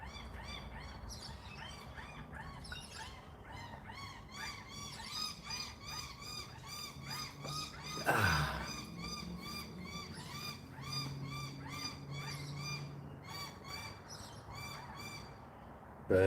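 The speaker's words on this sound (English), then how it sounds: "I can hear some lorikeets." Outdoor birds, likely lorikeets and noisy miners, calling in a busy, continuous chorus of repeated rhythmic chirps at moderate distance, with a single louder thump partway through.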